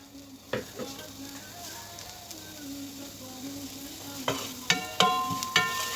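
Onion sautéing with garlic in a pan for a zucchini béchamel dish, a steady close sizzle punctuated by several sharp metallic spoon clinks and stirring scrapes, growing busier toward the end.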